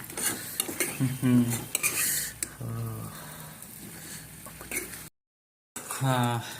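A spoon stirs and scrapes through Assamese-style local chicken masala with green chillies frying in a pan, making repeated metallic clinks and a soft sizzle. A person talks over the cooking, and there is a short silent gap near the end.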